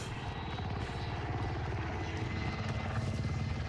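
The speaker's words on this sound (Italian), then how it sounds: "è proprio un elicottero sopra la testa" A helicopter passes overhead in the video game Call of Duty: Warzone, its rotor thumping in a fast, steady chop that holds loud and continuous throughout, with no talk.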